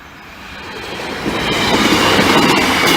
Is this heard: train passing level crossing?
yes